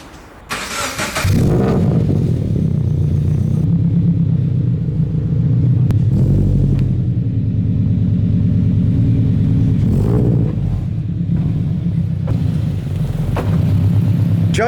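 Scion FR-S coupe starting up and idling with a steady, close engine rumble, then rolling slowly out of a garage as the engine holds low and even throughout.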